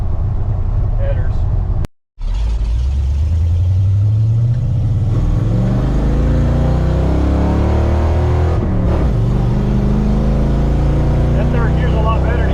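A 1986 Ford F150 pickup with a ZF5 five-speed and 9-inch Ford rear end pulls through third gear, engine note climbing loud and close after a brief gap, with talk over it.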